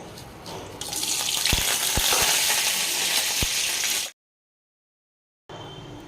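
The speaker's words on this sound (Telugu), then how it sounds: "ఆయిల్ బాగా వేడైనాక మనం తీసుకున్న కరివేపాకు, ఎండుమిరపకాయ ఒకటి, కొంచెం ఆవాలండి," Curry leaves, a dried red chilli and mustard seeds dropped into hot oil, a loud, broad sizzle that bursts up, holds for several seconds with a few crackles, then cuts off.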